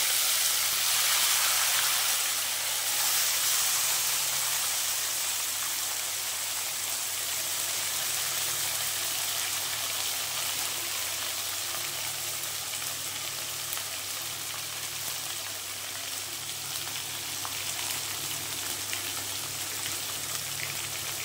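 Marinated chicken sizzling in a hot pan, a loud broad hiss at first that settles into a steady, slightly softer crackling frizzle running on without voices.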